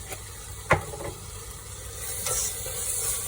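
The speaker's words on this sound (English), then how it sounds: "So the masalas have been frying for about 2 minutes now." Spice powders such as turmeric and coriander frying in a pan while being stirred, a soft continuous sizzle with a sharp scrape of the spoon and a few scraping stirs, fairly faint and close.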